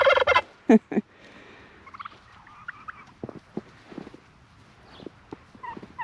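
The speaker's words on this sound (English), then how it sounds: "That's good, turkeys." Turkeys gobble in loud bursts at the start, then softer clucks and chirps follow with quiet gaps between, close by outdoors on an Illinois homestead in frigid winter weather.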